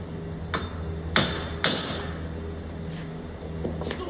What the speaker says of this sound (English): I'm gonna give it a couple more whacks